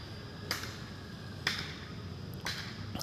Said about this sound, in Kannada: ಸುಮ್ಮನೆ ಚಪ್ಪಾಳೆ ಹೊಡ್ಕೊಂಡೇ ಹೋಗ್ತಾವನಿಗೆ